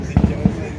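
Fireworks at the Chelakkara Vela temple festival in Thrissur go off as a few deep, muffled booms in quick succession over a dense, noisy festival background.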